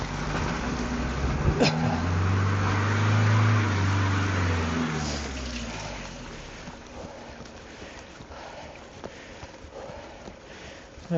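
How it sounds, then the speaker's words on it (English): On an icy road, a car approaches a cyclist from behind and passes. Its engine swells to a loud, low rumble, then fades as it pulls away, with scraping and crunching from the bicycle throughout. "This car wants to come past."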